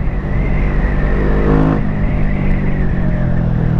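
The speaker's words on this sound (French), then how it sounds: "Ouais, ça accélère très très bien." A Kawasaki Vulcan S motorcycle accelerates, its engine droning loud and close with a rising pitch that peaks briefly before settling into steady engine noise and wind.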